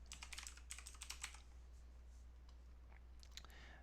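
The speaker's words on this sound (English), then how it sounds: "So I'm pushing Control and F on my keyboard," Rapid key clicks on a computer keyboard come in two quick clusters, with a few scattered taps later, faint over a steady low electrical hum.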